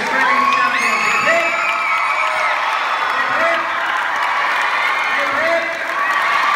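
A crowd at the 2016 Australian Irish Dancing Championships parade of champions cheers loudly and continuously, with high shouts and whoops from children and adults rising over a dense roar.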